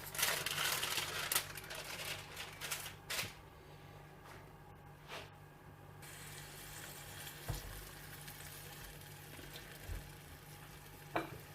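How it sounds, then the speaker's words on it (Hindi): A frozen paratha toasting on a hot, lightly oiled pan gives off a quiet, steady sizzle. Occasional soft clicks and scrapes break through it. "जो फ्रोजन पराठा मैंने आपको दिखाया था उसको भी हम यहाँ पे सेक लेते हैं।"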